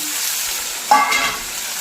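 Onions and mutton sizzle and fry in a pan, a steady close crackling hiss with a brief louder burst of stirring partway through; no one speaks.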